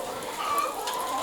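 Laying hens on a layers farm flock of about 3,000 birds cluck softly and continuously, a low murmur of fowl voices close by.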